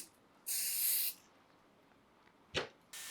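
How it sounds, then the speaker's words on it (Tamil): Two bursts of hair setting spray hiss from an aerosol can, a long one then a short one, close by, with a sharp tap between and quiet in the gaps. "செட்டிங் ஸ்ப்ரே யூஸ் பண்ணுறேன்."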